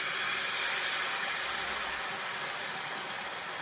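Malpua batter sizzles in an oiled pan as a steady, dense hiss of frying. It is close and constant, with no talk over it.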